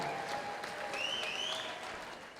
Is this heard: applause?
yes